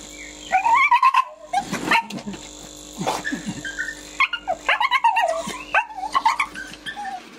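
A dog whimpers, yips and barks in short, excited bursts, close and fairly loud, amid several dogs warming up to run on a slat mill.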